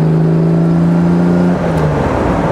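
A restored 1958 Jaguar XK150 3.4 OTS roadster on a test drive gives a steady, close engine drone under throttle, its tone shifting and dropping partway through.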